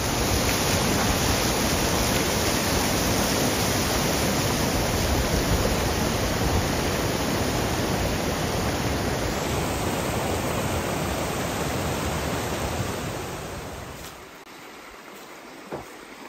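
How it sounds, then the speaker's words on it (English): Dismal Falls, a waterfall above a deep swimming hole on a trail, roars as a loud, steady broadband rush close by that fades toward the end as the listener moves away. "It's good to hear that waterfall sound."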